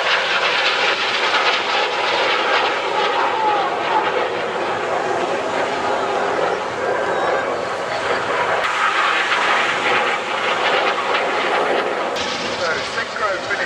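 RAF Red Arrows jets at the Bournemouth Air Festival air display: a loud, continuous broadband roar of jet engines sustained throughout, with no voices heard.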